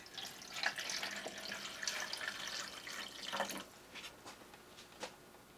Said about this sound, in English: It seems to be filtering the water faster, which might not be a good thing.